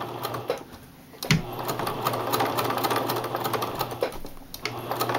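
A sewing machine stitches a satin stitch circle, making a steady, close mechanical whir with a rapid stitching rhythm that runs continuously, briefly dipping and then resuming.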